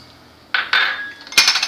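Salt is tipped into a mixer jar while making a peanut chutney, giving a few close, sharp clinks and a brief gritty rattle against the jar, with no talking.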